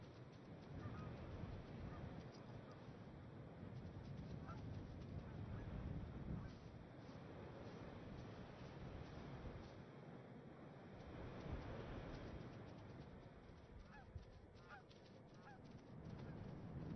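Canada geese, a mated male and female defending their nest in Arctic fox country, honk repeatedly in scattered calls over steady wind-like outdoor noise.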